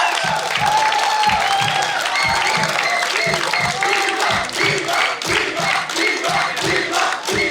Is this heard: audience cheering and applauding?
yes